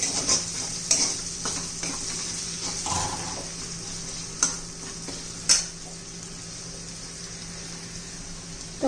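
Finely chopped onion sautéing in a pan for a spicy chicken dish, a continuous moderate sizzle with several sharp spatula clinks and scrapes against the pan, no speech.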